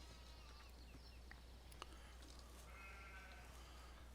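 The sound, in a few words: sheep bleating in the video game Farming Simulator 17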